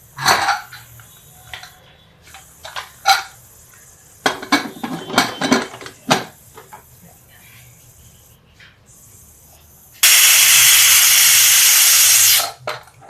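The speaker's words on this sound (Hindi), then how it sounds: "इसमें प्रेशर लगा देते हैं।" A pressure cooker holding lobia (black-eyed pea) curry clicks and clanks as it is handled, then lets out a loud, steady blast of hissing steam that lasts a couple of seconds before cutting off abruptly.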